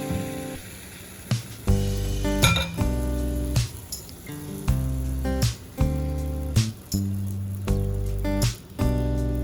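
Pancake batter for thin crispy peanut pancakes hits a buttered frying pan, giving repeated sharp clinks and knocks over a soft sizzle, with no talking.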